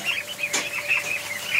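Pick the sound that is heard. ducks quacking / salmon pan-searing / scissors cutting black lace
ducks quacking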